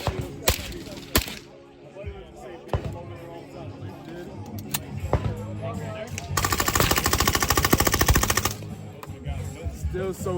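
Machine guns, including switch-equipped Glock pistols, fire in rapid bursts at an outdoor shooting gathering: loud cracks and sharp single shots, then a long sustained automatic burst, with voices talking between shots.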